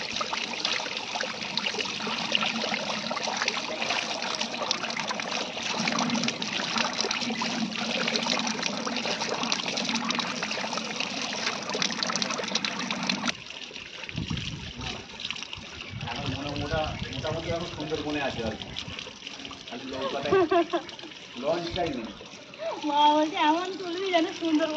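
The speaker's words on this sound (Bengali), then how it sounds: "আমি এখন মাছটা ধুয়ে নিচ্ছি" Tap water runs steadily over fish being washed in a home kitchen, a continuous close splashing stream that cuts off partway, followed by someone talking in Bengali over fainter handling sounds.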